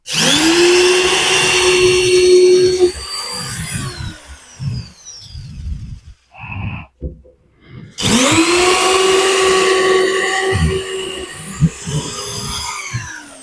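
A power drill bores holes in a wooden board for a chicken roost, giving two loud, close whining runs that rise and fall in pitch. Between the runs come a few seconds of clunks and handling knocks.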